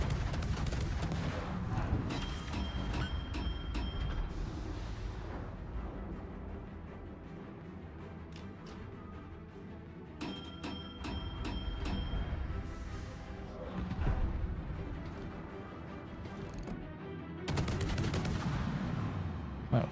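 Battleship guns from the Navarin in World of Warships boom in heavy repeated volleys, a dense barrage of loud blasts and rumbling impacts that runs nearly the whole time over a continuous game soundscape.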